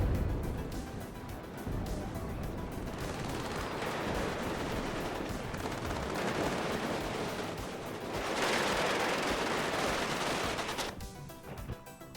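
Gazelle helicopter cannons fire in the real-time strategy game WARNO, making a dense, rumbling wash of rapid gunfire and battle noise at moderate volume, with no one talking.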